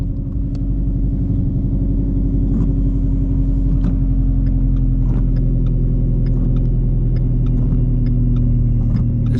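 An 800 hp Shelby GT350 V8 rumbles steadily and loudly from inside the car, with slight throttle variation over a low, constant engine drone.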